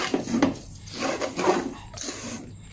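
Lachha semai being fried and stirred with sugar in a pan, a dry scraping and rasping of the spoon against the pan in uneven strokes, close and moderately loud.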